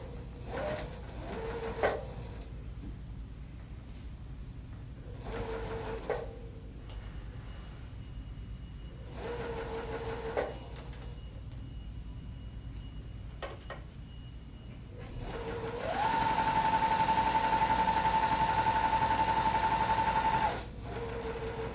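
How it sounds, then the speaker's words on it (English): A JUKI sewing machine stitches a zipper into a laptop sleeve in short bursts, then runs one long steady pass while back tacking over the starting stitches, loud and close with no talking. "I'm going over that stitching where I started and back tacking"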